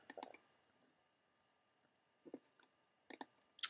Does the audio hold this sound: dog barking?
no